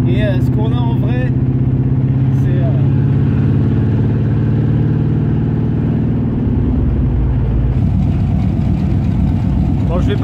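Car engine idling, from either a Firebird or a C10, a loud, steady low rumble that fills the whole clip close up, while a person talks over it.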